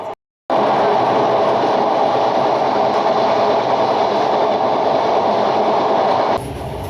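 The Jahanabad Express rolls over the Padma bridge rail viaduct with a loud, steady rumble of wheels and carriages that holds throughout, broken only by a brief gap near the start and a slight drop at the very end.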